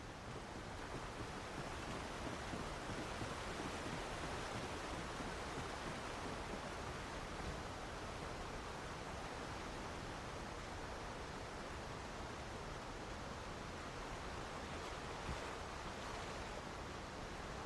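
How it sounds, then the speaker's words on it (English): Steady, dense rushing of river water flowing below in the video game Alan Wake, a constant wash of noise that holds evenly throughout with no voices. "When I saw the river below"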